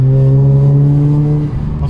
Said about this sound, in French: c'est un moteur rotatif hein, donc il n'y a pas de piston, il n'y a rien, donc forcément ça fait pas le même bruit qu'une voiture standard